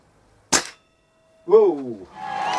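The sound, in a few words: shot fired from SMK XS38 air rifle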